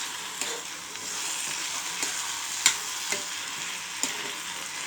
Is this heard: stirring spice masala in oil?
yes